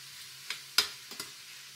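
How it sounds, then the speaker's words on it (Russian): Tomatoes stewing in a pan give a low, soft sizzle, broken by a few quick scraping strokes of stirring, the clearest one near the middle. "Пусть помидоры немножко потушатся"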